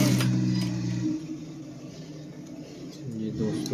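A sewing machine runs in a few short bursts while a band collar is being stitched, its mechanical whir loudest at the start and end with a quieter stretch between, and a voice talks over it.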